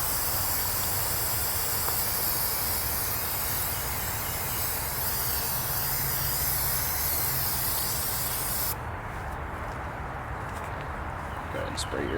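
A continuous loud hiss of liquid being sprayed from a sprayer onto a Chevy SS during paint correction, for several seconds, then cutting off abruptly.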